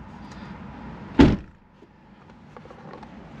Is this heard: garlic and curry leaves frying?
no